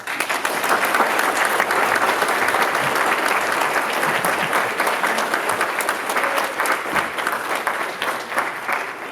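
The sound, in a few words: applause at a naturalization ceremony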